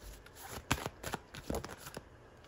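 Nature oracle cards being shuffled and drawn, with soft riffling and slapping of card stock in quick, irregular clusters, close and fairly quiet.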